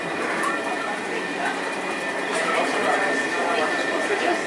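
Northern Explorer passenger train running between Wellington and Auckland, a steady broadband rumble and hiss from inside the carriage with faint rhythmic rattles throughout.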